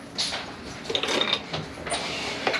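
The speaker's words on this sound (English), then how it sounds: "I'm gonna stick this under my machine on the inside, and I'm going to sew over it." A sewing machine stitches slowly through thick denim jeans, producing quiet, intermittent mechanical whirring and clicking bursts with brief pauses between runs, no talking.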